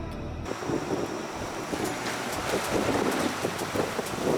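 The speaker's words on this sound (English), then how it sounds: "A fair bit of wind over tide action happening" Wind and sea swell sweep across open water, with a steady rushing of wind over the microphone and waves washing around it, moderately loud and continuous.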